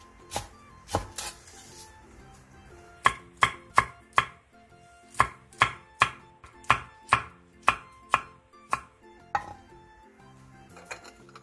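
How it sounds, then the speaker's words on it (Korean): A knife chops onion, green onion and chili peppers on a cutting board, with sharp, evenly spaced thuds in quick rhythmic runs and brief pauses between strokes, close and clear with no talk. "양파 2분의 1개를 1cm 정도 두께로 채 썰고 대파 2분의 1개, 청양고추 3개를 어슷 썰게 해주세요"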